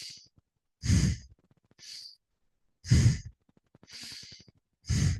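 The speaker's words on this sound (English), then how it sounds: "So inhale forward, exhale back." Slow, deep breathing during a kriya yoga practice, alternating strong audible inhales and softer exhales in an even rhythm, close and alone.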